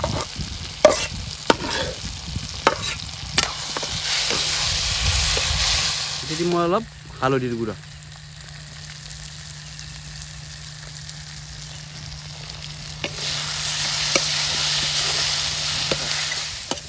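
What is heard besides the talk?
frying potatoes, tomatoes and capsicum with spices in a pan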